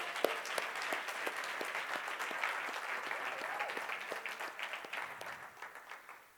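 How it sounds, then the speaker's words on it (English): An evening event audience gives sustained applause, many hands clapping steadily at moderate distance before the clapping thins and fades toward the end. "Can we all please give her a round of applause?"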